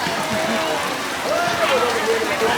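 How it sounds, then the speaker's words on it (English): Heavy rain pours down in a steady, dense broadband wash, with people talking over the downpour at an outdoor martial arts display in Cambodia. "we got hit by a bundle of rain before things really even started"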